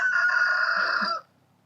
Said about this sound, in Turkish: bu arada horoz da videomuza eklemek istediği sesini